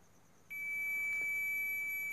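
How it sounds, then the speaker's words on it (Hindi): A digital multimeter set to diode test mode emits a continuous high-pitched electronic beep that starts abruptly and holds steady, clear and close. "यहाँ पर आप लोगों को बीप मोड पर ये मीटर सेट करना पड़ेगा"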